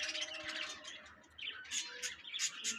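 Dense chirping and tweeting of many small caged birds, munias and zebra finches, at the Mirpur bird market in Dhaka, a busy overlapping chorus that swells louder in the second half.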